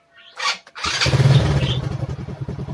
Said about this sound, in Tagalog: banda rin natin yung motor.